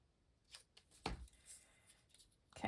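Scissors snip through scraps of paper during scrapbooking, a few soft, close, crisp cuts spaced unevenly across a quiet room, with one sharper snip in the middle.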